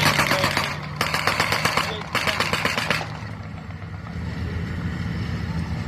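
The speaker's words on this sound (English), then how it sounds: "there are two vehicles coming round at the moment. One of them is an American half-track. In particular, it's the M16" An M16 American half-track armoured vehicle drives past, a loud, rough engine roar with clattering track noise that pulses for about three seconds and then settles into a lower, steadier rumble as it moves away.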